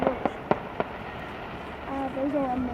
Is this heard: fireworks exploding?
yes